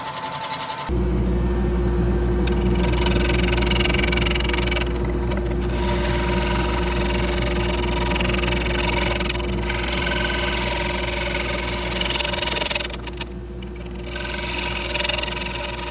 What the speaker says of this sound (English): I'm using a sharp pointed carbide tip tool to cut 2 beads into the rim.